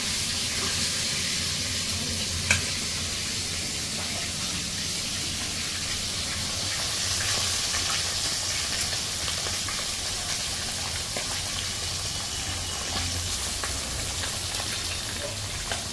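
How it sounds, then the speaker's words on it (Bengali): Bhangon fish frying in hot oil for an Assamese fish curry, a dense, steady crackling sizzle throughout with one brief sharp clink early on, close and continuous with no voices. "ভাঙন মাছখিনি ভজা হৈছে"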